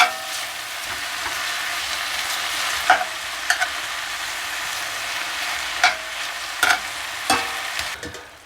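Chorizo and ground beef fry in a skillet with a steady, close sizzle, broken by a few sharp utensil scrapes and clicks as the meat is stirred.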